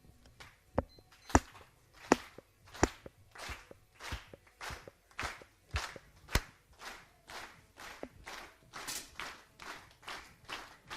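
Shots from 10m air rifles in a standing mixed-team final, a steady run of sharp, crisp cracks several per second from multiple shooters firing in turn, close and clear with no talk over them.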